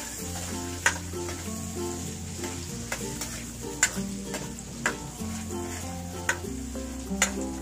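Beef sautéing for caldereta sizzles steadily in a pan, with occasional sharp scrapes and taps of a stirring utensil against the pan, close and continuous with no talking.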